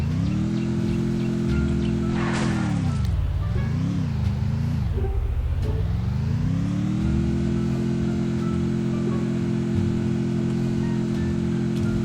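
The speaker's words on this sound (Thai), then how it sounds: "ต้องขับรถ" A car in the battle-royale game Free Fire drives with a steady engine drone that rises and dips as it revs, then settles into a constant hum, close and loud throughout with no talking.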